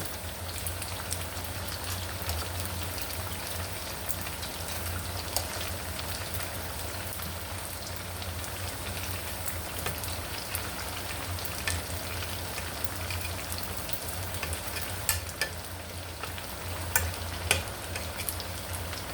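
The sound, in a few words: dumplings frying in a pan on the stove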